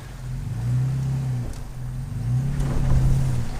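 Engine of a third-generation Toyota Tacoma in four-high working off road on wet ground, a low droning hum that rises and falls in two surges as the wheels spin, close and steady, with no talk.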